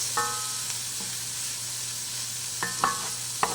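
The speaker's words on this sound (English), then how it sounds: "we're just going to get those onions and all just good and translucent" Onions sauté in a pan over medium heat with a steady, close hiss of sizzling oil, broken by a few clinks and scrapes of stirring against the pan.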